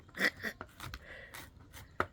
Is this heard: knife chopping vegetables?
yes